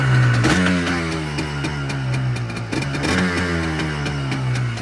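A two-stroke engine on a small vehicle starts and revs, a loud close rasping buzz with rising and falling pitch across repeated throttle blips, running continuously throughout.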